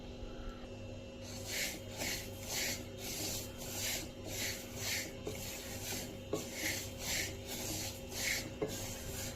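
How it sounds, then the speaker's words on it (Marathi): Sesame seeds being roasted over low heat and stirred in a pan make soft, rhythmic scraping rasps that repeat roughly twice a second, close and fairly quiet over a low steady hum. "आता हे आपण मंद गॅसवर चांगले भाजून घेऊया"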